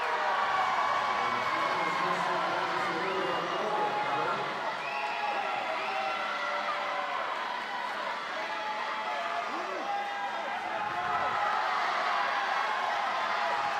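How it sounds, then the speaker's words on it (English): Husky swimming teammates cheering at a collegiate swimming and diving championship finals, a steady crowd roar with shouts and whoops in an indoor pool, under continuous commentary. "You see some of the Husky teammates cheering on Ryan Delaney."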